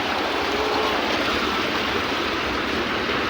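Flood water rushing through a market street, a loud continuous broadband roar of flowing water heard up close and alone without talk.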